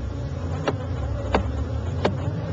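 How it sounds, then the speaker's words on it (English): A dense, steady buzz of many Africanized honey bees, close and continuous, with a few sharp taps on the colony cutting through. "I'm going to tap on them and get some more bees out."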